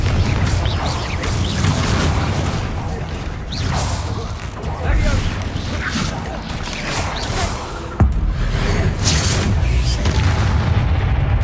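Confringo fire spells cast in the video game Hogwarts Legacy during combat: a rapid series of heavy booms and crashing blasts with whooshing bursts, loud and dense across the whole stretch, with one sharp impact near the end.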